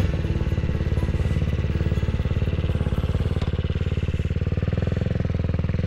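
A CCM Spitfire Six motorcycle engine runs steadily nearby, with a dense, rapid low pulsing throb holding at an even idle-like pace throughout, loud and alone without any talking.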